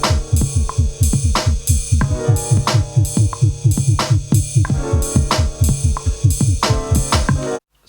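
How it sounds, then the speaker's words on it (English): Synth bassline with a wobbling LFO in a jazz hip hop beat, looping under drums and piano chords in steady rhythmic pulses, loud and upfront throughout. "It's got an LFO on it, so it's got like a wobble to it"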